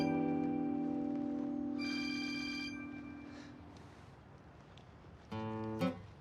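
A telephone rings in an indoor scene, with steady tonal ringing that fades away, then a short, louder burst of ringing near the end, and no talking.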